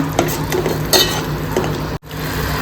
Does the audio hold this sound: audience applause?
no